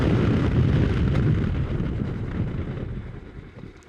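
A Kawasaki Versys-X 300 motorcycle braking during a road test, a loud roar of wind and engine rumble that steadily fades as the bike slows.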